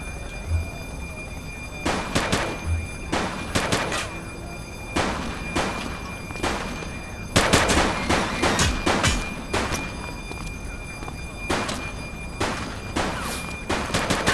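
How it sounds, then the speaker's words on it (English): Gunshots in The Precinct, a police action video game: scattered loud single shots and quick clusters fire across the span over a steady background, with some speech around them. "He's shooting!"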